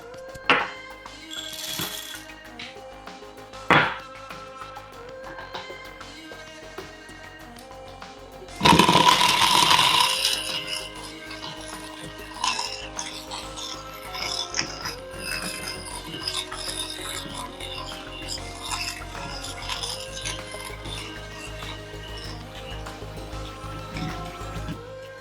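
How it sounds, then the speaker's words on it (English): Geimori T38 coffee grinder grinding beans for filter coffee: a few scattered clicks and taps, then a loud burst of grinding that settles into a quieter, continuous raspy whir. "let's grind for filter coffee"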